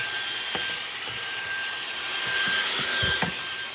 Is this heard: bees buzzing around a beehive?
no